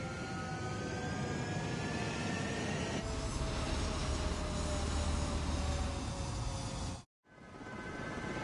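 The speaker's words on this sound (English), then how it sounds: "Mage Squadron, head to runway. Column Squadron, take off." Military jets taking off from a runway in Ace Combat, a loud sustained engine roar with rising whine that swells after a few seconds, then cuts out briefly before resuming.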